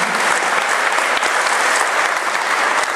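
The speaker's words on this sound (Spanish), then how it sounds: "brindemos un fuerte aplauso" A large crowd at a union section's annual report event applauds loudly and continuously, a dense wash of clapping with no pauses.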